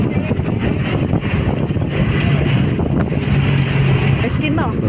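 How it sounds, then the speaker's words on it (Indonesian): A jeep ride on the slopes of Mount Merapi, with a steady engine drone and wind rumble throughout as the vehicle moves, loud and close, while a person talks over the noise. "Beginilah keseruan kalau kita menaiki jeep Gunung Merapi."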